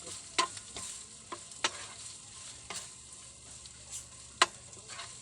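Leftover dish and egg stir-fried in a pan, a steady close sizzle broken by sharp scrapes and clacks of the spatula at irregular moments, no voices.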